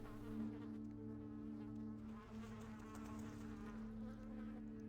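Flies buzzing in the video game Vampire: The Masquerade - Bloodlines, a quiet, continuous droning hum of several insects with slight wavering pitch, no voices.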